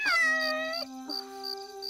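A cat on the road in front of a braking car gives two drawn-out meows, the first long and sliding, the second steady and close, with no talk over them.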